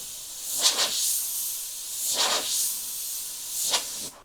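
An airbrush sprays thinned paint in three separate bursts, each a soft, close, airy hiss that swells and fades, with quiet pauses between them.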